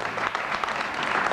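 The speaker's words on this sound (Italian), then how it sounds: "Un bel applauso." Studio audience applause on an Italian RAI television show, a brief, dense burst of many hands clapping evenly, fairly close and without speech.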